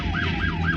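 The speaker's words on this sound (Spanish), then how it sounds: "Cuando llegó la ambulancia, Amy fue trasladada al hospital." An arriving ambulance siren wails in close, loud repeating rising and falling sweeps over road traffic noise.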